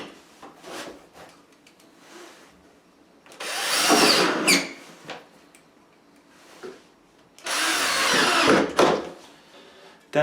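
A power drill drives screws into wood while a pipe box is built from boards, heard as two loud whirring bursts of a few seconds each separated by quieter handling noise.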